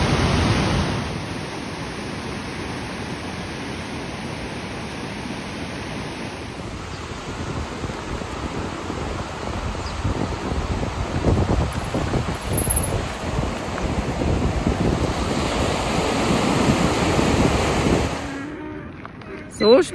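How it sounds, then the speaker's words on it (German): Rushing water from a waterfall pouring down a hillside near a village, a steady loud broadband roar running throughout with wind buffeting the microphone. "Der ganze Hang ist ein einziger Wasserfall."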